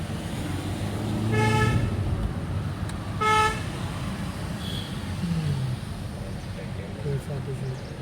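An ordinary bus to Kozhikode climbs the Thamarassery mountain pass, sounding two loud multi-tone horn blasts over a steady engine and traffic rumble, with a vehicle following slowly ahead.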